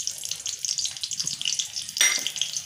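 Green chillies frying in a spoonful of hot oil in a heated kadhai, a continuous close sizzle that swells in a sudden burst of crackling partway through.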